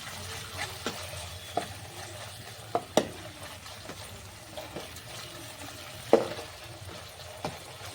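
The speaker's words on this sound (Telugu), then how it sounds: "ఆనియన్స్ అయితే ఉడుకుతున్నాయండి." Onions cooking in a pan with ginger garlic paste for a bitter gourd curry, a soft continuous sizzle broken by occasional sharp spoon clinks and scrapes.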